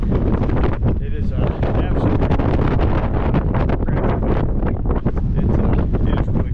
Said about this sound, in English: it's getting windy up here on the mountain